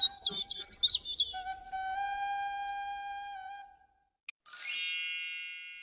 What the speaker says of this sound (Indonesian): Suara gong berbunyi, tanda Yang Mulia datang.